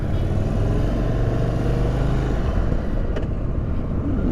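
A 2022 Indian Chief Dark Horse motorcycle cruising in second gear, its engine a steady deep rumble under constant wind noise, loud and close throughout.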